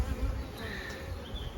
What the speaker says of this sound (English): Good little bees.